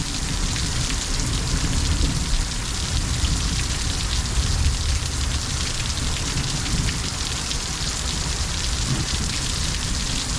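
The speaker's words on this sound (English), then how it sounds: "Good to have some rain." Heavy rain pours steadily during a thunderstorm in Needles, California, a dense, loud, continuous hiss of drops drumming on surfaces with no letup and no voices.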